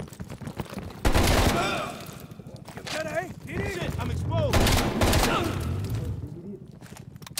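Gunfire in Call of Duty Black Ops Cold War, with rapid volleys and bursts of shooting layered with explosive impacts, loud and sustained, while someone talks excitedly over the action.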